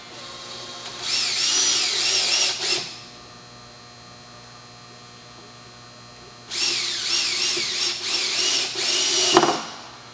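A power drill drives set screws into an in2aqua bath display board, with two sustained whirring bursts of about two to three seconds each separated by a pause of mains hum, close and loud with no talk.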